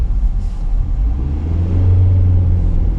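A manual car engine revs after a missed gear shift on a drive through a historic mill village in East Tallassee, making a steady, close, low rumble that rises slightly, with no talking.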